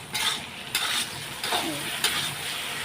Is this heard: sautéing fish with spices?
yes